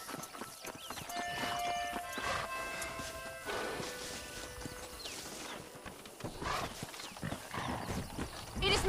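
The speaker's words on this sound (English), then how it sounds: "They are good horses" Horses pull a stagecoach at a steady clip-clop in Red Dead Redemption, with hooves and rattling wheels running throughout over a tonal musical backdrop and occasional louder knocks.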